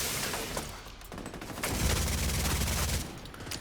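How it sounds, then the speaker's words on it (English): Rapid assault rifle fire in The Division 2, a dense burst of sharp shots that thins out midway, then resumes as a steady automatic stream, loud and close, with no talking. "Now you can see this assault rifle is not anything special."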